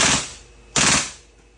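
A WE M4 RIS airsoft rifle fires on full auto in two short, loud bursts of rapid mechanical clatter, close to the microphone, with a brief dip between the bursts.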